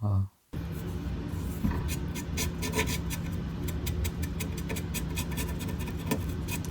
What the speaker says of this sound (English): So let's just clean this area up with some isopropyl alcohol.